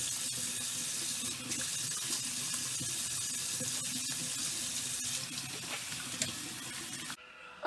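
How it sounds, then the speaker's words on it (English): Hands are washed under a running kitchen tap, a loud steady rush of water with splashing shifts as the hands move, ending abruptly when the flow is shut off. "First, we gotta start with the hands washing"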